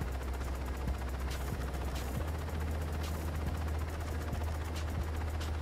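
Helicopter rotor drone from the Saints Row 2 video game, steady and loud throughout, with a rapid burst of gunfire and sporadic shots crackling over it.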